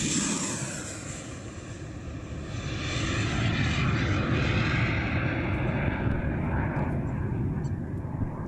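A volley of missiles launched from Gaza toward Ashkelon roars overhead as a loud, sustained rushing wash that swells and lingers in open air.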